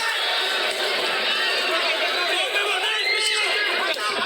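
A boxing crowd at the main event of Thrilla in Manila II 2025 roars in a dense, sustained wall of cheering and chatter, with a commentator's voice running over it.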